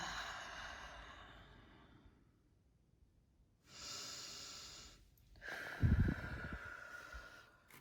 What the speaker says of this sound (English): So I want you to take a few deep breaths with me.